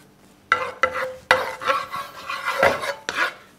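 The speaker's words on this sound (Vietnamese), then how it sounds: "Các bạn nhớ lưu ý là chúng ta cho cơm vào và chỉ đảo đều thôi chứ không chiên" Cooked rice being stirred and turned in a pan with sausage and char siu, giving a series of sharp utensil scrapes and clinks against the pan with soft rustling between them, close and fairly loud, no talking.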